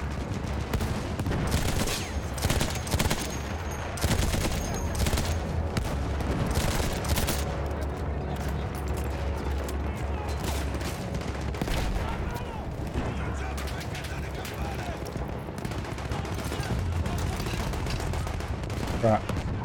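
Dense, sustained gunfire from a rifle in Battlefield 1, a First World War shooter, with rapid shots and rumbling battle noise running loud and steady throughout.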